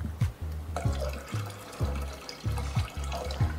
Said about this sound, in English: And then I add in my fruit punch.